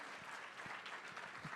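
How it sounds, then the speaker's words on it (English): A conference audience at a Swift developer event gives steady, fairly faint applause as performers leave the stage, an even wash of clapping. "So clap for them all again, please, as they leave the stage safely"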